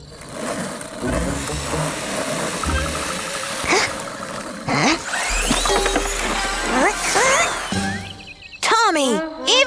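A toy car engine in a cartoon revs and rattles with a low running hum and ratchety clicks, mixed under cartoon voices and music.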